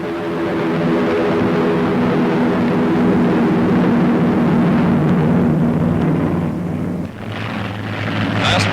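Large US bombers take off one after another in 1942 wartime newsreel footage, heard as a loud, sustained, steady drone of heavy piston engines. It runs continuously with a brief dip near the end.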